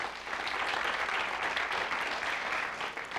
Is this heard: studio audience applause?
yes